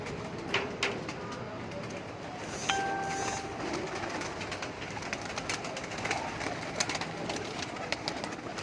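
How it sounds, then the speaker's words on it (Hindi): Pigeons cooing on a rooftop amid a soft outdoor wash, with a faint tone and scattered short calls against low background rumble. "इमरान भाई, जो 1-2 परिंदों का ज़रा शौक करवा दें।"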